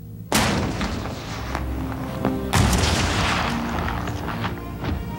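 Heavy cannon fire from the Confederate ironclad CSS Virginia's big guns: two loud booms about two seconds apart, each followed by long rumbling reverberation, crackle and scattered smaller blasts.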